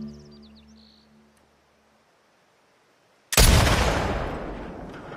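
A single loud gunshot from The Last of Us Part II rings out after a quiet stretch and faint tones, then decays in a long, rumbling echo. No one talks.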